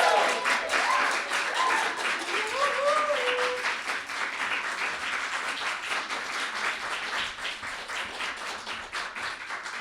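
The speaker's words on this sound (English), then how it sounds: "Clap it up for Hannah" An audience claps for an open mic poetry performer, a dense steady applause lasting throughout, with a few brief whoops or voices rising over the clapping early on before it gradually thins.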